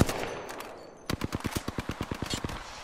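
Rapid burst of automatic gunfire from Apex Legends, a quick run of evenly spaced shots after a brief lull of softer firing, loud and close with no voices.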